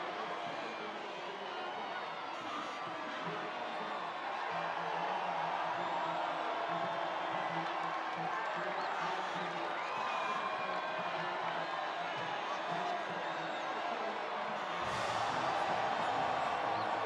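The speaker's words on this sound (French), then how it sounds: "les acclamations du public doivent leur faire chaud au cœur" Spectators at a motor race cheer as Aston Martin drivers walk to the podium, a continuous distant roar of crowd noise that swells slightly partway through, with a commentator talking over it.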